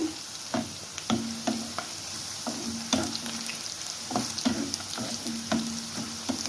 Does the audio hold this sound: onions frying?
yes